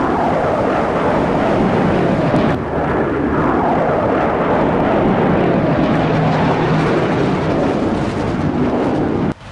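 Roaring F-16 jet engine powering up in a combat flight game after an MK bomb drop, a loud, continuous broadband rumble with a brief dip partway through and a sudden cut at the end.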